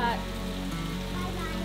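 Heavy rain falls during a hurricane in Fort Lauderdale, a steady, even hiss of drops striking surfaces, continuous and fairly close.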